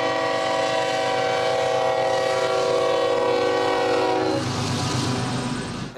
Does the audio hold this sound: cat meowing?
no